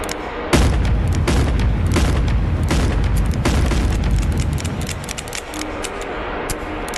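Gunfire and booming blasts in the VR game Animal Company, a dense run of loud repeated shots and impacts over a rumbling low roar, easing slightly toward the end.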